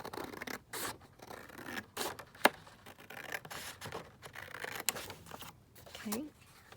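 Scissors snip through paper for a junk journal in a series of short, close crisp cuts with rustling between them, while a person talks quietly.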